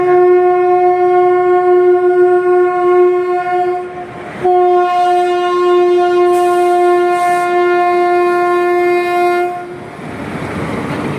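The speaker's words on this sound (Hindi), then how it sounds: "ट्रेन उधर आ रही है" A train approaches a Kurukshetra railway crossing whose broken barrier is stuck in a vehicle, sounding a long, loud, steady horn that breaks briefly and resumes, then fades as a rushing rumble of passing wagons takes over.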